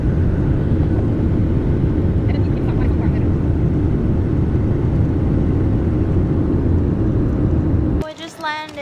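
Airliner landing at Anchorage Airport in winter, a loud steady roar and rumble of engines and rolling that holds without pause until it drops away sharply near the end, leaving quieter cabin sounds.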